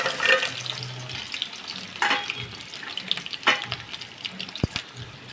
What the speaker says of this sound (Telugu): పన్నీరు డీప్ ఫ్రై చేసుకోవాలి